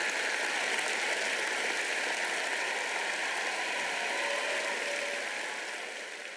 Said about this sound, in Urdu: مجھے زوردار تالیاں بجانا پسند ہے